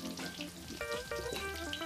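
Karaage sizzles in sunflower oil in a wok, with the heat turned down after a high start so the oil does not smoke. A steady, close frying hiss runs throughout, with tonal sounds layered over it.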